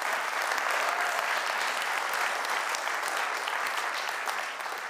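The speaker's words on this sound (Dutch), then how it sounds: "Ik wil alvast een hartelijk applaus voor deze sprekers." An audience at a Dutch panel event on a future beyond growth gives the speakers a warm round of applause, dense sustained clapping from many hands that tapers slightly at the end.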